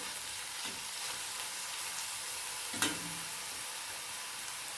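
A soft, salted mixture is stirred in a hot pan, giving a steady, quiet sizzle with faint scraping throughout and one brief, sharper clink near the middle. No one speaks.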